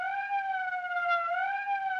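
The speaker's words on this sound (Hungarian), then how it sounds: "Ez az ötödik sziréna hang egy órán belül." A siren wails steadily in an old 1959 film scene, a clear, sustained rising and falling tone that carries on alone without any voices.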